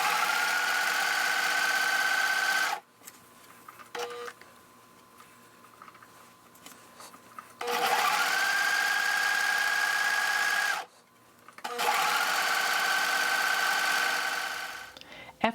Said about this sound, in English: you can serge the seam and make sure that you serge them separately